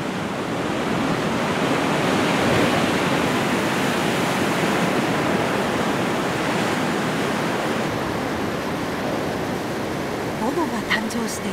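The Bono tidal bore surges up the Kampar River in the Sumatran jungle of Indonesia, making a loud, unbroken roar of churning, breaking waves close by.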